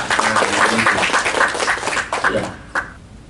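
A small audience at a palm-oil plantation workers' union forum claps for speaker Erwin Nasution, with a short, uneven burst of nearby clapping mixed with voices, thinning out to a few final claps.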